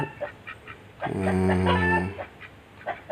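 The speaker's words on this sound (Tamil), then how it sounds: "இதுதான் நான் ஃபஸ்ட்டு வாங்கின பெக்கிங் வாத்து" A Pekin duck kept on a small farm gives one loud, drawn-out nasal call, with softer short calls before and after, close to the listener.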